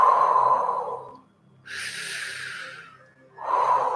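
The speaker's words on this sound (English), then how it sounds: "Inhale through the mouth. Exhale." A person breathes in through the mouth and exhales during a pelvic-floor and fascia stretching exercise: one long, airy breath stands out clearly between quieter, steadier tones before and after it.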